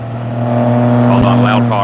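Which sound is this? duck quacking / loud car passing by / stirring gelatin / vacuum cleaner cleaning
loud car passing by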